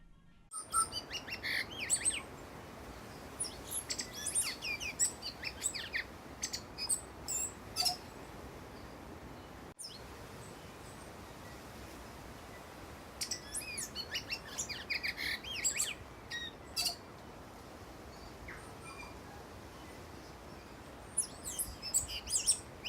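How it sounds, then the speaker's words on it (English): A tui chirps and calls in bursts of varied whistles and clicks at a New Zealand island bird sanctuary, moderately near, with other birdsong and a faint insect-like background hiss. "Don't know what that tui bird was chirping about"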